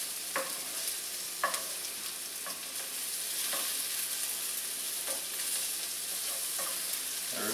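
Chicken sizzles steadily in a pan with flour added, a constant frying hiss with occasional spatula scrapes and taps against the pan.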